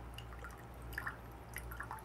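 Hot water dripping through a ROK manual espresso maker, a faint series of small irregular drips over a low steady background hum.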